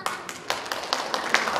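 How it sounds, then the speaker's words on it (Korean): A small crowd at a Rotary Club founding ceremony claps in irregular bursts, the hand claps close and fairly distinct rather than blended into a roar, continuing briefly without voices. "박수 한번 드리겠습니다"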